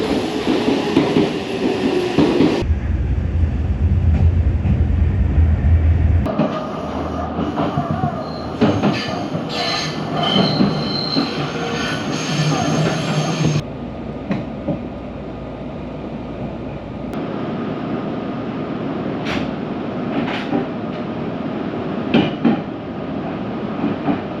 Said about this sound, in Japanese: ホームには対馬線方面の電車が入線してきました